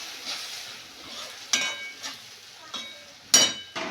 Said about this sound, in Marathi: आता ह्याला तळू द्यायचं, तेल सुटेपर्यंत चांगलं फ्राय होऊ द्यायचं